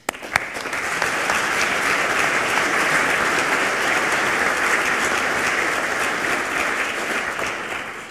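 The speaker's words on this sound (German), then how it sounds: "Applaus" Audience applause at a university academic ceremony during a prize presentation, a sharp start then sustained, even clapping from a large hall crowd, steady and full for several seconds.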